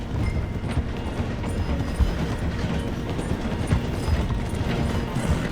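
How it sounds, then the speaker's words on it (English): In Red Dead Redemption 2, a horse gallops alongside a slowing train, with rhythmic clip-clop hoofbeats over a dense, continuous rumble and clatter of rail cars, all close and loud without speech. "The train is slowing down to go through the station."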